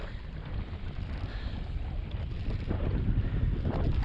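Wind gusts steadily while kayaking in shallow water near a small island, producing a broad, rushing roar with microphone buffeting that grows slightly louder toward the end, with no talking.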